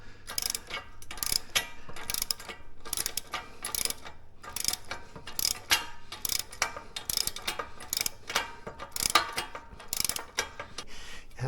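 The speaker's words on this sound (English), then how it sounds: "I'm going to get the ratchet. Okay, 17 millimeter ratchet." A 17 mm ratchet tightens bolts during home gym assembly, clicking in repeated rapid bursts of ratcheting strokes with short pauses between, close and distinct.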